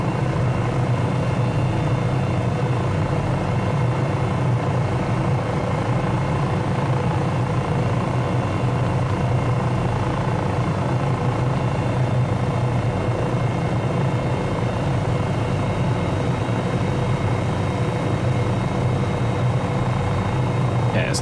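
A simulated helicopter in Microsoft Flight Simulator 2020 drones in a continuous, loud rotor and turbine wash that holds steady for the whole stretch with no breaks.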